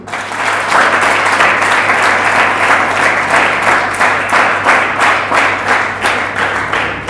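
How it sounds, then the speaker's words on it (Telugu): A room of SSC students clapping together, loud, dense applause that starts at once and holds steady for several seconds with a rhythmic pulse, with no talk over it. "సో మీ డెసిషన్కి గట్టిగా ఒకసారి చప్పట్లు."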